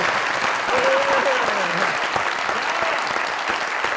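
A studio audience at a Pakistani comedy talk show claps loudly and steadily throughout, a dense, continuous wash of applause with a brief raised voice heard within it.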